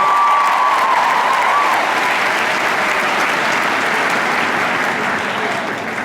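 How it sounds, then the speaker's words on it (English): Loud, sustained audience applause at a comedy show, a thick wash of many clapping hands with some crowd noise, steady throughout and slowly easing at the end. "One more round of applause for those guys."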